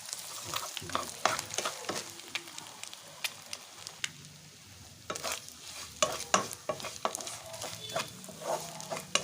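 Medium-sized boiled egg pieces stirred in a frying pan for a garlic egg dish, with a spatula clicking and scraping against the pan in irregular bursts over a soft, continuous sizzle.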